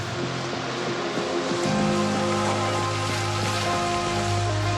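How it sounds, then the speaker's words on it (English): Steady rain falls in the Project Zomboid video game, a constant dense hiss over a low droning background tone throughout, with no talking. "It's a rainy day over at Acorn Plaza."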